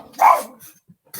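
A dog gives one loud, close bark, followed by a few fainter short sounds and the start of another bark at the end.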